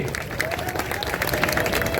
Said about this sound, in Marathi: सर्वांनी एकदा अमिताभांच्यासाठी टाळ्या करा सर्वांनी